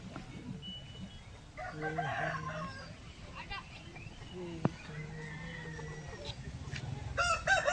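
A rooster crows at a village poultry market, one drawn-out call standing out over a murmur of nearby talk and other market noise.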